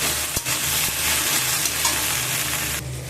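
Prawn curry sizzling in a pan on the stove, a continuous close frying hiss broken by a few spoon knocks and stirring scrapes, no voices.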